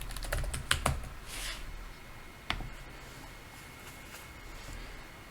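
Keyboard keys being typed into a settings search field on an Android setup, a quick cluster of clicks near the start and another lone tap midway, close and fairly quiet with no talking.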